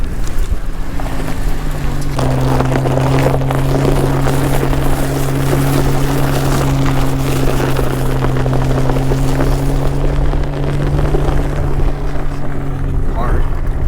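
Stock pickup trucks, a Tacoma and a Chevy ZR2, labouring up the off-road Imogene Pass in Colorado; a loud, steady low engine drone under heavy wind buffeting.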